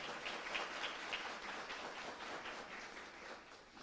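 Congregation applause during a church service, a faint, steady patter of many hands clapping at a distance, continuous and even throughout.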